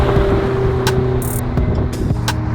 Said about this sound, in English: Man, that car sounds so crazy. I love the turbos.